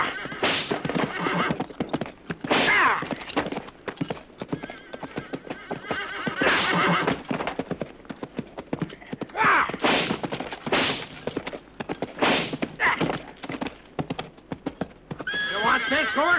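A horse in a spaghetti western action film whinnies and gallops with clip-clop hoofbeats amid other movie sounds, loud and close throughout, with voices speaking over it.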